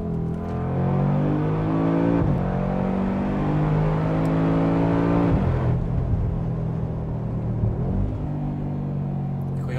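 An AMG car's engine drones loudly while driving, rising through several revving pulls with brief drops between gear changes, heard steadily from inside the car.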